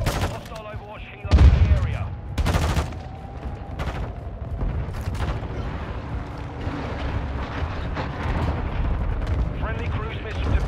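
Call of Duty: Modern Warfare 2 (2022) gameplay brings loud gunshots and booming blasts near the start, then sustained rumbling combat noise with scattered shots. Faint voices can be heard underneath.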